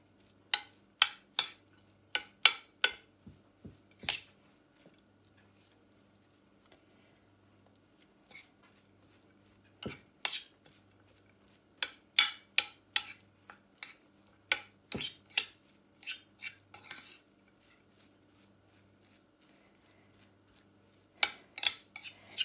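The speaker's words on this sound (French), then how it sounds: "On mélange." Chickpea nugget mixture being stirred in a bowl, a long run of sharp clinks and scrapes in clustered bursts with quiet gaps between, close and fairly distinct, with no talking.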